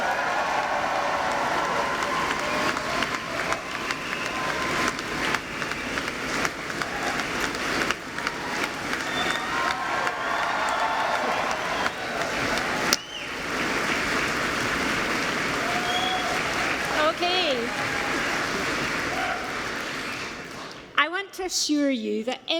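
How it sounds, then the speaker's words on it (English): A large graduation audience at the University of Aberdeen claps, cheers and stamps their feet in one loud, continuous wave of applause that fills the hall, then drops away at the end. "This is your first opportunity to clap and cheer and stamp your feet."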